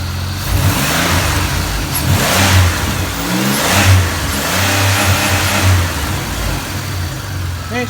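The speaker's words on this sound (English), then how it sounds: "the car's gonna rev up a little bit" A 2004 Chevrolet Monte Carlo engine revs up steadily from idle, a loud, close mid-pitched rumble swelling and easing in several pulls with no talking.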